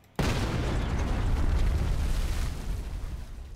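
A building collapsing and exploding in a modded Halo 3 level set in Mombasa, a sudden loud blast that swells into a long rumbling roar and slowly fades, with no voices.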